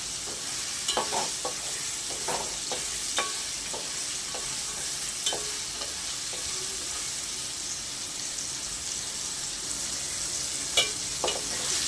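Vegetables fry in a pan for veg biryani, a steady soft sizzle running throughout with scattered light clicks and scrapes of a spoon stirring, close up and without talk.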